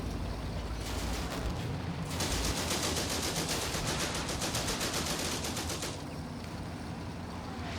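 A long rapid burst of submachine gun fire in Combat Mission: Afrika Korps, a fast, even stream of shots over a rumbling battle background that then drops away.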